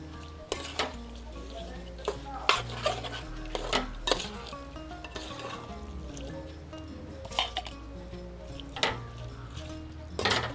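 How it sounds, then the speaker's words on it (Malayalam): A spoon stirs fried coconut into a koottu curry in a pan, giving repeated scraping and clinking knocks against the metal over a soft simmer and sizzle. "നമ്മൾ വറുത്ത് വെച്ചിരിക്കുന്ന തേങ്ങ നമുക്കിതിലേക്ക് ആഡ് ചെയ്യാം"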